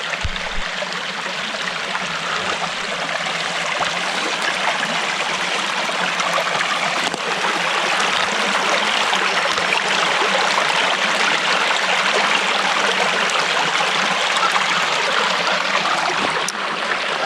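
Creek water flows steadily and loudly throughout, a dense continuous rushing and trickling with no talk over it.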